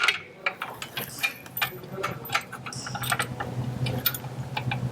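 A hand ratchet tightens nuts and washers onto the bolts of an ALPHA MOTO motorcycle tire bead breaker. Quick, crisp clicking pawl strokes come in uneven runs, close and fairly loud.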